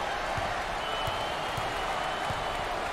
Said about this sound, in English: And Dick, look at this sellout crowd, and they are loving it.